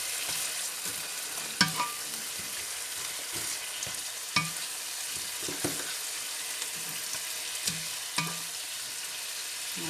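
Spinach in a hot pan being stirred with a garlic-and-parsley salt mix: a constant soft sizzle with several sharp scrapes and clacks of the utensil at intervals, near and with no voices.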